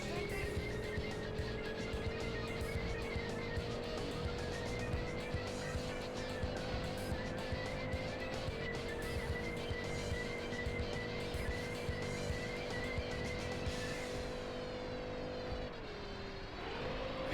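Racing car engine from the video game Auto Modellista, a steady high sustained drone of revving and shifting that holds loud throughout, dipping briefly near the end before picking up again.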